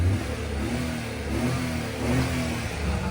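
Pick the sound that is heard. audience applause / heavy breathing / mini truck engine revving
mini truck engine revving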